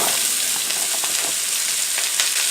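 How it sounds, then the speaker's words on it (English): Onions added to pork frying in a pan for jjajangmyeon black bean sauce give a loud, steady, close sizzle with no talking. "I'm going to end up adding my onions"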